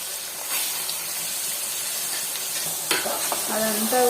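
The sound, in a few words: mutton liver frying and being stirred in a pan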